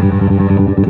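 An electric bass runs through an EBS Billy Sheehan signature drive pedal, giving a loud, distorted tone that repeats a rhythmic pulsing pattern as the tone control is swept.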